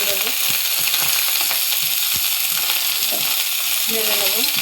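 Small fish frying in a pan with turmeric and salt, stirred: a constant sizzle runs throughout, broken by scraping and clinking strokes of the spatula, close and fairly loud.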